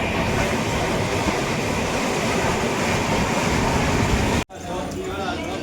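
Inside a crowded general-class coach of a moving train, a loud steady rumble of wheels and carriage noise runs throughout, cut by a sudden brief dropout before continuing more quietly.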